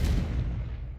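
A Confringo blasting spell detonates as a magic explosion, a single heavy boom at the start that decays into a fading low rumble.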